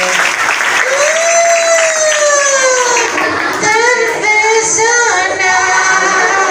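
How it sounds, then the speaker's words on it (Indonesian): A crowd at a Maulid Nabi religious gathering applauds in a steady, continuous wash that lasts the whole stretch, while a sung, wavering voice rises over it. "Tepuk tangan dulu buat Mas Dito."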